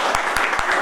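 Applause greets a chief guest invited onto the stage at a party workers' meeting in a guest house hall, a brief burst of dense clapping with a few sharper individual claps standing out.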